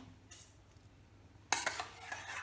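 A metal spoon clinks against a pot while cooked rice is strained into milk cream for Turkish sütlaç, a few soft scrapes followed by a sharper burst of clattering near the end, quiet and close.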